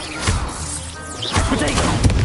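Stupefy spell cast in Hogwarts Legacy: loud magical whooshes and impact thuds in quick succession over a couple of seconds, with a brief swirling rise in the middle.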